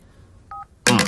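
A telephone dials a single keypad tone partway through, followed by a short louder burst of dial tone, quiet and alone with no talk.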